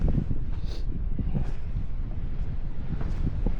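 Steady wind blowing hard across the microphone at Tantallon Castle on the East Lothian coast of Scotland, a constant low rumble with gusty buffeting and no voices.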